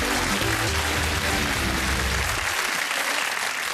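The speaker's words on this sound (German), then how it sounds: "Großer Applaus für die Dorfmeister." A German TV game-show studio audience applauds loudly and steadily for a family team, a dense wash of clapping that carries on without speech.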